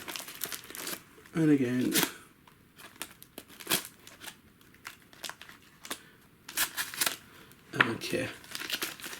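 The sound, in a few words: cutting packaging of RC car wheels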